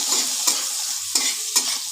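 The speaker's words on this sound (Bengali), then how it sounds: "এবার পেঁয়াজ কুচিগুলোকে আমি লাল লাল করে একটু ভেজে নেব" Loud, steady sizzling of chopped onions frying until browned in a pan, close up, with a few quick scraping stirs cutting through.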